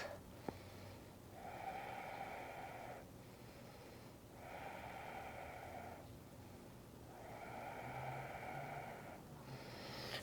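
Slow, deep breaths held in a yoga pose, close to the listener, with long audible airy inhales and exhales in a steady rhythm of about three cycles.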